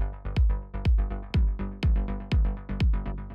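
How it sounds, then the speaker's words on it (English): Techno drums run through a saturating drum bus effect: punchy, compressed kicks with bright hits land in a steady, driving rhythm, loud and upfront with no talk. "So the first thing we have here is this drum bus,"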